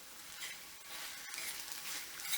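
A fish curry base sautés in a pan, giving a steady, soft hiss of frying at moderate distance, with a faint stir or tap midway and no voices.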